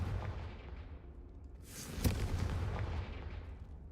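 A Confringo fire spell in a Hogwarts video game blasts a brazier with one sharp, booming burst. A whooshing flare and rumble build around it and then settle.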